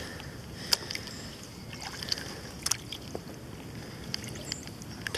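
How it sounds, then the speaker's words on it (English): A paddle dips and drips as a canoe or kayak moves out on a river, with faint scattered splashes and water trickles over a steady outdoor hiss. "we're going to paddle on out"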